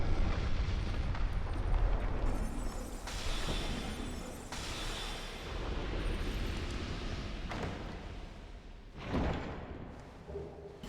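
Enemies exploding in the video game Dark Souls 2, a dense, continuous roar of booming, rumbling blasts with a few sharper thuds, loud throughout with no talking.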